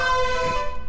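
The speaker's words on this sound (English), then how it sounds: "Air horn!" A loud, blaring air horn from the video game Lethal Company, one sustained buzzy honk held for under a second.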